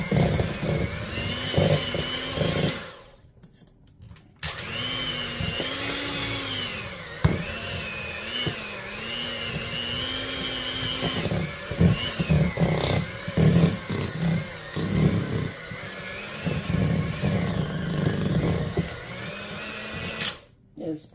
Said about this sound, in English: I'm just going to use the mixer